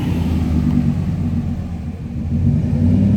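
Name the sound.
truck passing by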